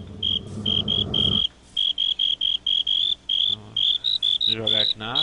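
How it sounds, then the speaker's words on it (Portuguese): Night-time crickets in the video game Minecraft, a shrill high chirping repeating in short regular bursts, loud and close, with brief low game sounds in between and no talking. "De noite, oficialmente, grilo e tudo mais."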